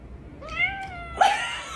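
A female cat gives two short meows, the second sharper and louder, close and clear against a quiet background.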